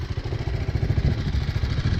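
A 2018 BMW G310R with its 310cc single-cylinder engine idles close by. The exhaust is quiet, with a steady low chugging pulse and a light mechanical clatter, and nobody speaks.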